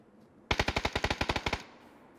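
A rapid burst of about fourteen automatic gunshots in PUBG, sharp and evenly spaced over roughly one second, loud and close, with no speech.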